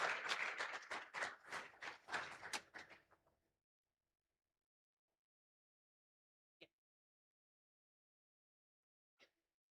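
A round of applause from a conference audience: a burst of many hands clapping for about three seconds that fades quickly into near silence, followed by a couple of faint isolated knocks.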